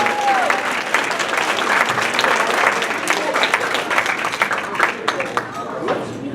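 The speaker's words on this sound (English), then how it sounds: "I think we should actually give the coach a round of applause for all the organization as well, too" Gala audience giving the coach a round of applause, loud dense clapping from a crowd that fills the room throughout, with voices and cheers mixed in.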